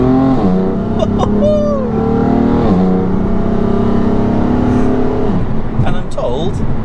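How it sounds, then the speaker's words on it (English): A BMW M4 F82 tuned to 700 bhp, exhaust in quiet mode, blips through downshifts to second gear and then accelerates hard, engine note climbing loud and close over an excited voice talking. "Drop down a couple of gears, down to third, down to second, and go!"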